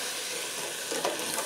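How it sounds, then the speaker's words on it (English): Unsweetened almond milk hits a hot flour roux in a pan and sizzles in a steady, close, bright hiss, with faint stirring near the end and no talking. "I'm gonna go ahead and get some milk going in here. This is just an unsweetened almond milk."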